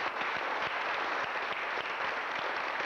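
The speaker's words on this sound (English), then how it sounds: "this team deserves a round of applause and a thank you" Steady applause from an audience at a city council meeting honoring a facility team, dense and continuous clapping at even loudness throughout with no voices over it.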